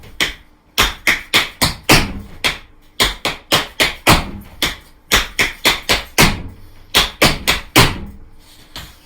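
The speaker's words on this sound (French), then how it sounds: "Stomp, stomp, stomp, stomp, stomp et stomp." Tap shoes stomp and strike through a time-step exercise, starting on the right foot, in sharp, loud, close clusters of rapid hits with short pauses between phrases, and no voices.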